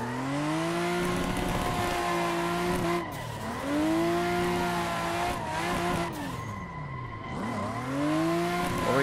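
Racing video game played with a 900° steering wheel: a car drifting on a track, the engine revving and falling in repeated sweeps with tires squealing and skidding through corners, loud and continuous with no talk.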